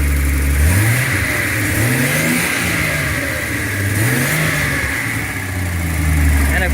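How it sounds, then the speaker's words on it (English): A 1976 Datsun 280Z with a Garrett T3-turbocharged straight-six engine revs repeatedly, the pitch climbing and falling in several swells over a steady idle, loud and close with no one talking. "I love the sound of a straight six"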